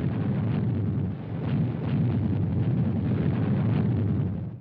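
A continuous low rumble of Royal Air Force aerial bombing during the Malayan Emergency, with heavy explosions rolling together into a loud, sustained roar that fades out at the end.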